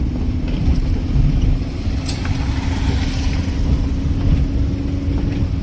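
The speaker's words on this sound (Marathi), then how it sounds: "इथून वळू का गाडी पुन्हा" A car engine runs steadily with a low hum while driving slowly and turning around, continuous and close throughout with no talk.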